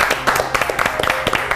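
An audience at a weekend show claps steadily in a dense, fairly loud burst of close hand claps through the whole short stretch, with a faint voice underneath.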